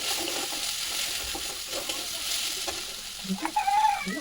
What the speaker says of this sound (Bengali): এবার কচুরলতিটি একটু নেড়ে চেড়ে নেব